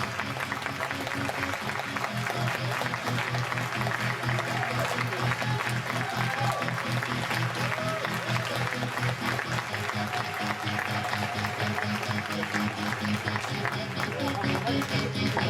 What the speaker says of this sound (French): Vous pouvez applaudir une fois plus.